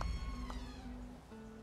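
A cat in The Elder Scrolls Online lets out a short, clear meow followed by a second drawn-out, tonal meow, close and moderately loud over faint background game ambience.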